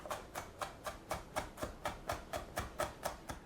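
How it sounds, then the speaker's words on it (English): A knife rough-cutting tomatoes on a board for a tomato salad, about a dozen evenly spaced chops in a quick, steady rhythm, close and fairly quiet, with no talking. "we'll just go through here and just give these a little rough cut"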